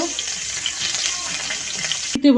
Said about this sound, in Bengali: এটার জন্য একটু শুকনো মরিচ ভাইজে নিতেছি।